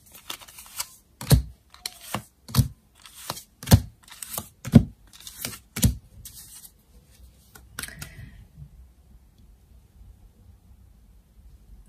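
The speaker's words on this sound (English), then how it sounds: "Let's lay out some more cards," Tarot cards are slapped down one after another onto a surface during a reading, about a dozen sharp, close taps at irregular intervals, then quiet with faint rustling.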